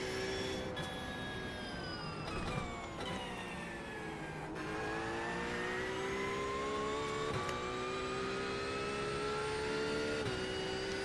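A Porsche race car in iRacing howls at high revs around Bathurst, a steady loud engine tone that rises and falls through gear changes, with a sharp drop near the middle before climbing again.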